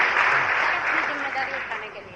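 Loud, steady applause from a seminar audience, a dense continuous wash of clapping that fills the whole stretch at an even level, with faint voices mixed in underneath.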